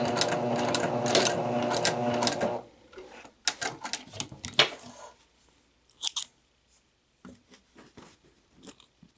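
Sewing machine stitching a back tack at a corner: a steady run of rapid needle strokes for about two seconds, then short bursts of reverse stitching and a few isolated clicks and mechanical knocks.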